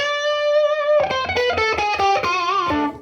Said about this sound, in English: Assuming that the built-in Rangemaster for the Fender Tonemaster Pro is accurate, it sounds like this.